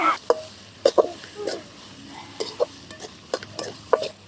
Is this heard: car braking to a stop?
no